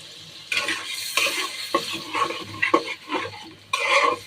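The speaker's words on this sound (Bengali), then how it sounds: "ডালটা একটু মশলার মধ্যে কষিয়ে নিব" Lentils are stirred into spice masala in a pan, producing uneven bursts of scraping and clinking from a utensil against the pot over a soft background sizzle, with short pauses between strokes.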